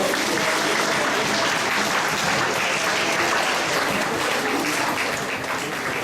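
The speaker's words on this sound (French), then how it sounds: "On peut applaudir encore les élèves de première" At a high school prize-giving ceremony, a large crowd applauds the first-year students in a continuous, loud, dense wash of clapping that holds steady throughout.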